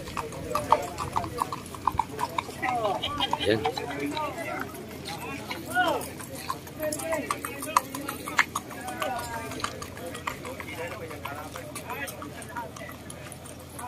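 Racehorses galloping in a race with rapid hoof clip-clop, heard at moderate distance under almost constant chatter and commentary from onlookers.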